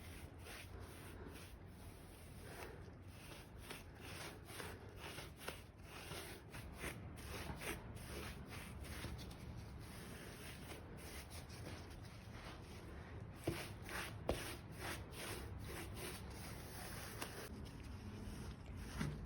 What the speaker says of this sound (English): I paint over the wax using a large brush, and I try to cover the entire surface of the panel.